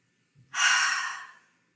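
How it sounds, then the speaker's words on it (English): One slow breath during a caregiver relaxation practice: a faint intake through the nose followed by a longer, airy exhale through the mouth that fades away, alone in a quiet room. "Inhale through the nose, exhaling out of the mouth."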